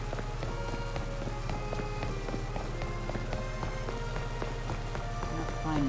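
Steady rain hiss from a Pokémon video game, continuous and even throughout, layered with faint game music tones and a low constant hum.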